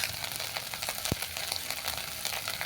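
Ground sesame and poppy seed paste hitting a hot pan with ginger already frying, giving a steady close sizzle and a single sharp tap midway.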